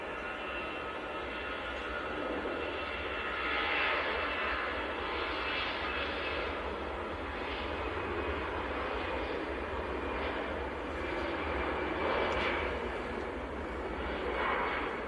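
An EasyJet Airbus A320 jet airliner at Manchester Airport gives a sustained, moderately distant engine roar that swells and eases in gentle waves for about fifteen seconds, with no talking.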